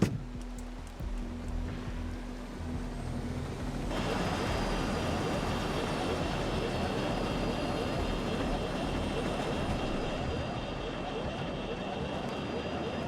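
A helicopter flies in the video game Ghost Recon Breakpoint, a steady loud whirring drone that thickens into a dense rush after a few seconds and holds without a break.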